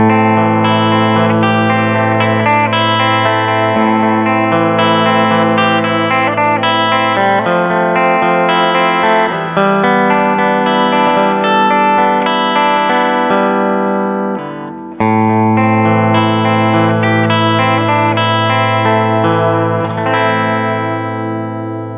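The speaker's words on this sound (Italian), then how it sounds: "vi farò sentire prima il ponte, l'humbucker sul ponte, eccetera, eccetera, e poi tutto il resto delle sue sonorità" An electric guitar on its bridge humbucker pickup runs through distortion, chorus and echo effects, ringing out loud sustained notes and chords continuously with a brief dip midway, no voices.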